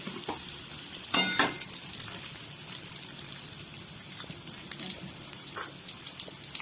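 Steady sizzling of steamed potatoes frying in a pan with salt, with a few sharp clinks and scrapes of stirring mixed in, no voices.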